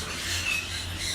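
A macaw at a bird park gives a loud, harsh, rasping squawk that swells and holds through the brief moment, close by.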